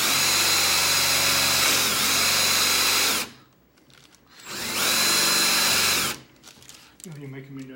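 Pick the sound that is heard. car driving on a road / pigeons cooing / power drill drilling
power drill drilling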